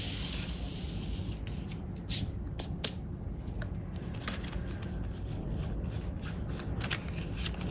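Tarot cards being shuffled by hand, a run of soft riffling flicks and taps layered over a steady low room hiss, close and fairly quiet, with no one speaking.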